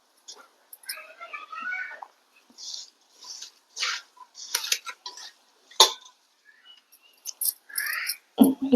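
Cauliflower pickle being stirred with the juice of four lemons in a bowl, giving irregular wet clinks, scrapes and squelchy mixing sounds in short bursts, close up with no talking.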